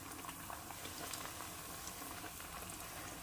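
Bananas frying in brown sugar for banana cue, a soft, even bubbling and sizzling of hot oil and sugar that runs on continuously and fairly quiet.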